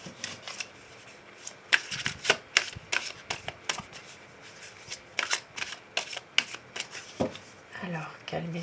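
Oracle cards are shuffled for a reading in quick, crisp riffling bursts that repeat irregularly, close up, while someone talks in French over them.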